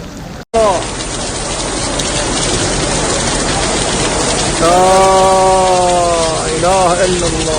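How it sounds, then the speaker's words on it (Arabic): Heavy rain pours over the Haram in Mecca in a loud, steady rushing wash after a brief cut at the start, while voices rise over the downpour in the second half. "أمطار غزيرة الآن على الحرم"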